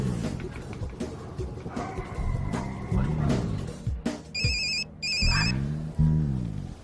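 A phone ringtone chimes in two short repeating bursts near the end, with overlapping voices and background sound in an Indonesian TV drama scene.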